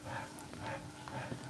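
A dog whimpers and pants nearby in short soft bursts, with faint yips over a low room background and no talk.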